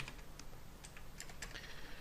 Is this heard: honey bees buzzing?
no